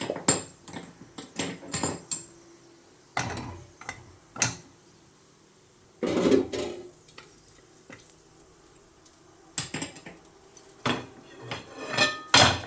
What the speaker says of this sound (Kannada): ನೋಡಿ, ತವೆ ಇಟ್ಕೊಂಡಿದ್ದೀನಿ. ದೋಸೆ ಮಾಡ್ತೀನಿ.